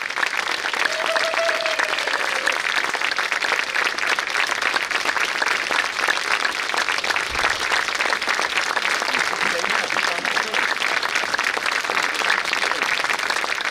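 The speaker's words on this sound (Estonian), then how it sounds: "Suur aplaus ka kõigile tänastele solistidele!" Sustained audience applause for the soloists of a town orchestra concert at a town's 100th birthday celebration, a dense, even clapping that holds steady throughout, with a brief voice heard early under it.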